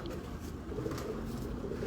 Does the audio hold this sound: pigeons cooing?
yes